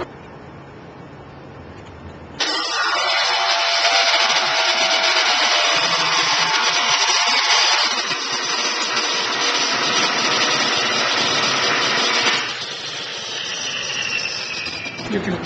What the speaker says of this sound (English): You can clearly see how much faster the 400 hertz grinder is than the 120 volt grinder.